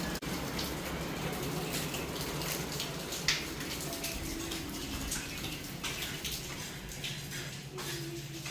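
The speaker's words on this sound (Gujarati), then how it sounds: "ધીમી ધારે ચાલુ છે વરસાદ બહુ નથી પણ ઝરમર ઝરમર ચાલુ છે" Light drizzling rain falls in a steady, even hiss close by, with no voices and only a single faint knock breaking the constant wash of sound.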